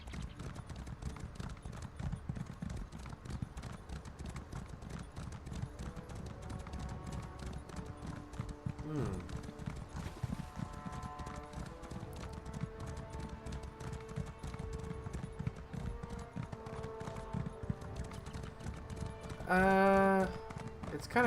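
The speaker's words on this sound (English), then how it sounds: "Charge, horse, charge." A horse gallops in The Elder Scrolls Online with a steady, rapid clip-clop of hooves running throughout, and a brief tonal game chime sounds near the end.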